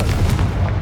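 A short, heavy Confringo fire-spell blast erupts in Hogwarts Legacy, a dense low booming burst that fills the whole brief moment with no voices.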